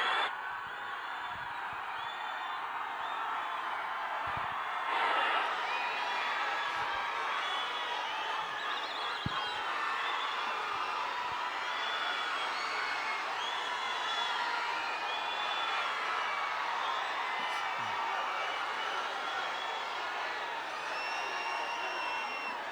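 A large crowd at a Coimbatore film event applauds and cheers, a steady wash of clapping with scattered whoops and shouts held throughout, fairly distant and even.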